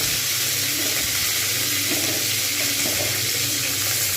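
Cauliflower florets fry in hot oil in a pan, giving a dense, even sizzle that hisses continuously at moderate volume with no voices.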